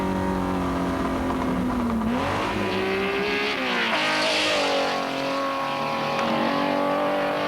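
Classic race cars, among them a little Lotus Elan S1, roar past on a circuit at the 1997 Tour de France Auto, their engines rising and falling in pitch through overlapping passes with a constant loud drone.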